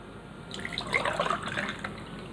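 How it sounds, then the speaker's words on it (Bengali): Water pours into a blender jug already holding chopped banana, milk, sugar and black salt, a short gurgling splash that swells and fades over about two seconds, close by and fairly soft. "এখন আমি দিব পানি।"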